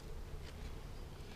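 Honeybees buzzing around hive pads in a bee yard, a steady, dense hum of many insects flying close by with no talk.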